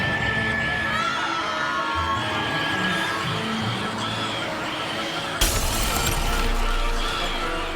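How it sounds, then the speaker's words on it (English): Shrill, wavering screams from a mandrake plant in the video game Hogwarts Legacy, loud and sustained over a busy game background, with a sudden crashing burst of noise near the end. "Is that that plant that screams loud?"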